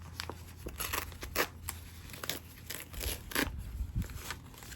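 A plastic package of crochet yarn opened with scissors, giving a close, quiet series of irregular crinkles, snips and tearing rustles spread across several seconds, with no talking.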